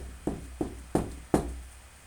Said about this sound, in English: Just then, there was a quiet knock at the door.